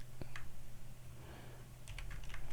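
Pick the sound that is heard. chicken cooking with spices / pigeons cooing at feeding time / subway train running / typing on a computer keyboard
typing on a computer keyboard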